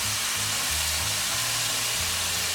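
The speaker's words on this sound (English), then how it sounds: "I'm using 4 tablespoons of oil because it's a lot of onion to fry." Sliced onions fry in four tablespoons of oil, a steady, close sizzle hissing without pause, with faint low hum from the kitchen underneath.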